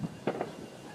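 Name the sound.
fireworks on the 4th of July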